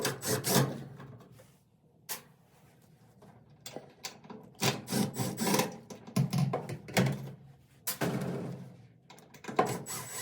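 Phillips screws being removed from a Whirlpool dryer door, heard close up as faint, intermittent scraping, creaking and clicking bursts separated by quiet gaps, with no voice.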